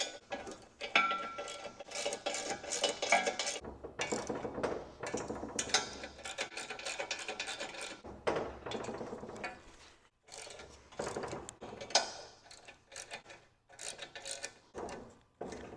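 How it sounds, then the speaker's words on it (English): A 13mm socket wrench tightening four bolts on an ABS 250 aftercooler, giving bursts of rapid ratcheting clicks separated by short pauses, close and fairly clear. "take your wrench. For this, it's a 13mm socket. And all you got to do is tighten all 4 of these bolts down"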